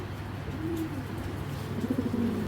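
Racing pigeons in a loft coo twice at close range, low throaty calls over a steady background hum.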